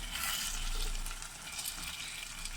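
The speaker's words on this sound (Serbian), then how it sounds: "sad smo u ovo što pržimo, ovaj praziluk, ubacili smo šargarepu na kockice i beli luk" Leek, diced carrot and garlic fry in a pan with a steady, close, bright sizzle that carries on evenly without any talk.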